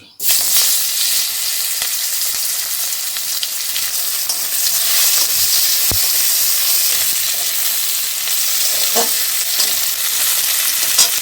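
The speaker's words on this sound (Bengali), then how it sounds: "এখন আমি পেঁয়াজগুলো ভেজে নিচ্ছি" Onions fry in a pan with a loud, steady, close sizzle that hisses throughout, broken by occasional clinks and scrapes of stirring; no voices are heard.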